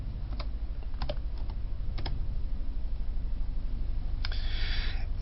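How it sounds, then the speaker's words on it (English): Password typed on a computer keyboard: a quiet run of separate key clicks at an uneven pace against a low steady hum, ending in a short quick burst of taps, no voices. "I have to type in my user password"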